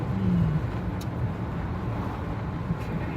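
A 90s Ford F-150 half-ton pickup truck cruises along, with a steady low engine and road rumble heard from inside the cab and no talking over it.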